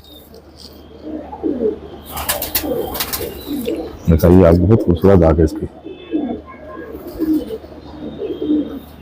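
Soft, repeated coos of Allahabadi pigeons, including an old one, murmur through the background while someone talks nearby over a steady low hum.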